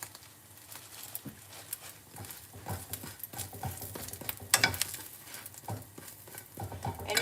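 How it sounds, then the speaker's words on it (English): French toast fries in a pan with a steady, close sizzle, accompanied by intermittent stirring and clattering sounds. "So my French toast is looking good. It's sizzling."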